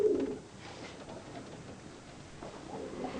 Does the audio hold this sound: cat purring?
no